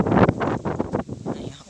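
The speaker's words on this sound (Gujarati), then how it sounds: "જે રીતે સંભળાતો ફૂલ પવન છે" Strong wind gusts over open farm fields in dark, rainy weather, buffeting the microphone in loud, uneven surges.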